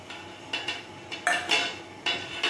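Utensil scraping and clinking against a pan while ingredients are stirred and mixed, in a quick run of close metallic scrapes and taps with no talking.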